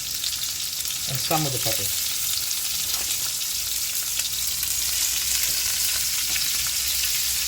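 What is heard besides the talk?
onions and peppers frying in a pan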